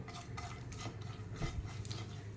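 Whole spices, cloves, black cardamom and a cinnamon piece, stirred in hot ghee in a pan for matar paneer: soft scraping spoon strokes and clinks over a faint sizzle, close and quiet.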